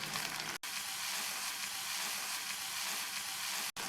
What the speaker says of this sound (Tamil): இந்த மாதிரி வெங்காயம் நல்லா சாஃப்டாக வதங்கினதுக்கப்புறமா இது கூட ஒரு மீடியம் சைஸ் தக்காளியை சேர்த்து,